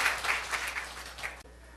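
A congregation claps during a Sunday sermon at a Korean church, a loud burst of applause with dense, rapid claps that cuts off abruptly.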